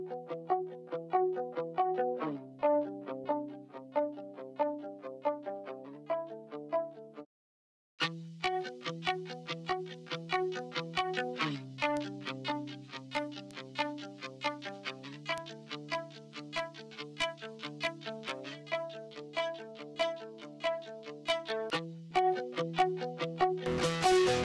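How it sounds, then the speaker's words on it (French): Guitar-like tones pushed through an amp distortion plugin in Ableton Live, with a steady repeating riff of gritty, sustained notes and a brief dropout midway, loud and alone without any talking. "Le gain fait rentrer le son à l'intérieur du plugin de manière plus forte, qui permet d'apporter plus de distorsion"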